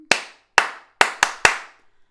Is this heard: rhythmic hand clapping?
yes